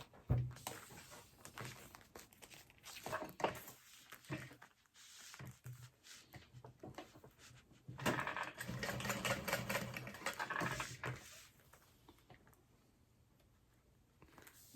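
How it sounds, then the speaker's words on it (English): Sewing machine stitching a small square on a vinyl and leather barrel bag, short bursts of fast mechanical whirring separated by pauses, with a longer run in the middle. "I am going to be sewing just a little tiny square underneath that connector"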